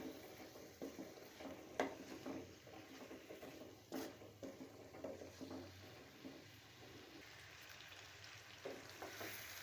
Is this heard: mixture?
yes